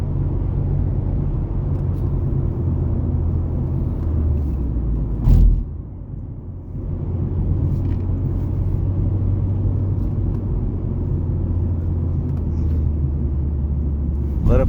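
Ford Focus project car driving on a highway, its engine a low steady rumble with road noise, a brief loud thump midway before the drone resumes.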